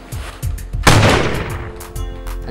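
A loud, close gunshot blast rings out with a long decaying tail, preceded by a few softer low thumps and followed by faint rhythmic knocks; no one speaks.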